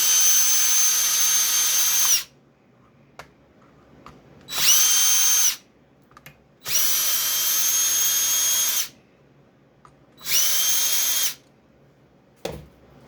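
Cordless power drill backing out four M4 screws from motorcycle body plastics on a 660, in four loud whirring bursts of about two seconds each, separated by quiet pauses with small clicks.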